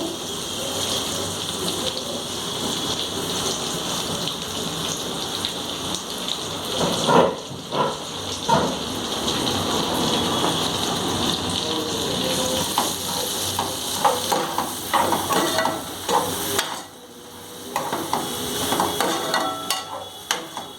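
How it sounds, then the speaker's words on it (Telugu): Green chillies and onions frying in oil in a pan for chicken fried rice, giving a loud, steady crackling sizzle throughout with bursts of sharper popping and brief dips; no voices. "అదే ఆయిల్లోకి పచ్చిమిర్చి ఉల్లిపాయలు వేసుకొని కొంచెం ఫ్రై చేసుకుందాము."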